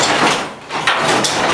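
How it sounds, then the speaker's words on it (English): An insulated garage door, made heavy by an added insulation kit, is raised a few inches by hand, giving a close, steady rumbling scrape with a brief dip and then a renewed surge of noise. "So I'm just going to lift the door up a few inches."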